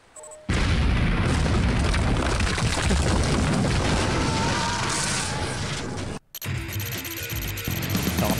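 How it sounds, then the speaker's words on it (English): A loud, rumbling explosion in Command & Conquer Remastered booms and roars for several seconds, cuts out briefly, then returns with lingering crackling debris. "Let's see this explosion"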